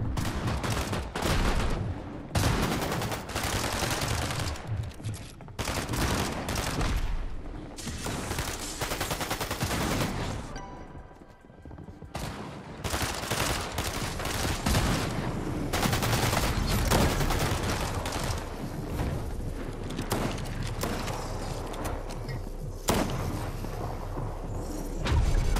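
Rapid bursts of gunfire crackle through a Fortnite match, volleys of shots and heavier booms coming in uneven clusters with brief lulls, loud and close throughout.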